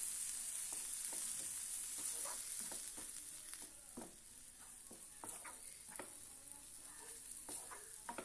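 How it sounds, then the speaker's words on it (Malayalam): A spoon stirs and mixes a curry-style dish in a pan after hot water has been added, producing steady soft scraping taps at a regular rhythm over a faint background sizzle, close and fairly quiet with no talking. "നല്ലോണം മിക്സ് ചെയ്ത് കൊടുക്കാം."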